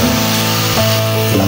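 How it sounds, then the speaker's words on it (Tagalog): An angle grinder cutting through steel angle bar gives a loud, steady metallic whine with a dense buzzing hum, continuous for the whole stretch and briefly dipping in pitch as the blade bites. "Mabilis gamitin ang angle grinder, pamutol, mga idol."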